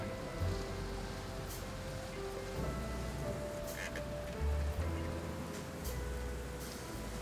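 Steady rainstorm hiss of rain falling on surfaces, continuous and fairly loud, with low rumbling hum underneath and brief brighter splashes; no talking.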